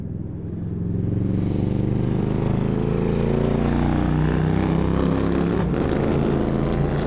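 A motorcycle pulls away and rides off, its engine drone rising from a quiet start into a loud, steady roar that holds throughout, used as an effect in an animated horror story.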